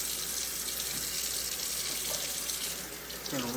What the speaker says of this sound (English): I'm gonna go ahead and turn the water on.